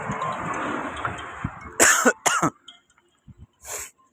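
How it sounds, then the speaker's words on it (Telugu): A few sharp coughs and a throat clear, close by, after a stretch of steady background noise; a softer cough follows near the end. "దగ్గు సార్"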